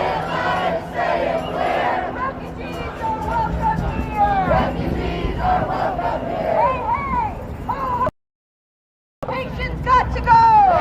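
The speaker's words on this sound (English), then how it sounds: "Hey, look at this crowd here." A large protest crowd shouting and chanting together on a Chicago street, with overlapping voices and loud cries, a brief dropout, then the chanting resumes.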